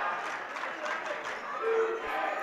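A home crowd cheers in a gym during a girls high school basketball game, producing a steady, distant-sounding wash of voices and applause with faint talk beneath.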